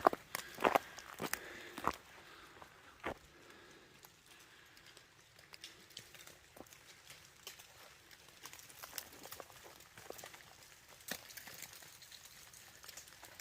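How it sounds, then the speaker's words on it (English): Chunks of melting ice drop from trees in a forest on the Appalachian Trail, giving scattered irregular thuds and patters, some near and some farther off, over a quiet background. "yeah, just big chunks of ice falling from all these trees"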